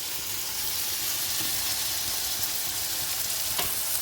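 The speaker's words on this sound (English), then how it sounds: "I'm going to let the onions and pepper fry a bit first before I add the garlic" Onions and pepper fry in a pan with a steady, dense sizzle that holds constant throughout, close and fairly loud with no other sounds.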